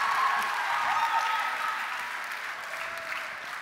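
An audience at a talk claps steadily throughout, a dense, even wash of applause that fades slightly toward the end, with no voices over it.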